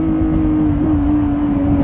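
A Lamborghini Revuelto in hybrid mode hums with a loud, close, steady engine drone, one sustained tone with a slight wobble midway.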